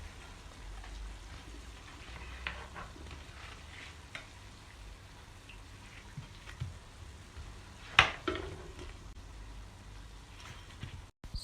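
Doughnuts frying in hot oil: a soft, steady crackle and sizzle with scattered small pops, one sharper spatter standing out briefly, heard alone at low volume.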